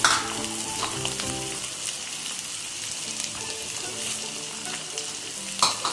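Curry leaves and grated ginger frying in hot oil in a pan, a loud continuous sizzle and crackle up close with a few stirring scrapes, no voices.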